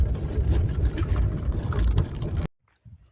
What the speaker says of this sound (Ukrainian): На польову дорогу заїжджаю зовсім